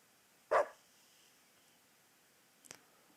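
A single sharp dog bark in the video game Deadly Premonition 2, near and alone, followed after a pause by a faint short click or yip.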